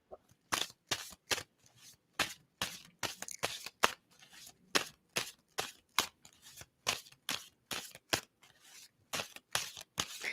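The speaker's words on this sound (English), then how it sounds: "And someone to stop shuffling." Tarot cards are shuffled close by in a steady series of crisp riffling bursts, repeated many times with a voice speaking faintly at moments.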